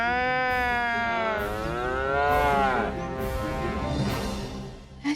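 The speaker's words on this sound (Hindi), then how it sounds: "तेरी प्रिय भैंस" A pet buffalo lowing loudly in a long, drawn-out moo with rising and falling pitch, close and clear, followed by a brief softer sound at the end.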